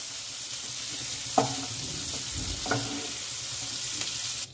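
Shrimp frying in a wok give a steady, close sizzle of hot oil with a couple of sharp spatula scrapes against the pan.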